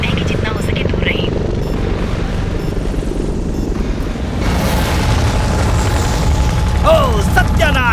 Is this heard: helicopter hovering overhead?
yes